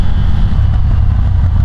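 A Ducati Scrambler 1100 Pro on Öhlins suspension downshifts on the road, its engine a loud, low, throbbing rumble that stays steady and close throughout.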